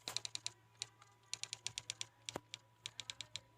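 Computer keyboard typing sound effect, bursts of quick, crisp key clicks in uneven runs with brief pauses, close and clean with no voices.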